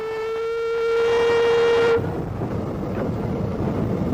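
A Ffestiniog Railway narrow gauge steam locomotive arriving at a station, opening with a long, loud steady whistle that cuts off abruptly, followed by rumbling and clanking of the train rolling along.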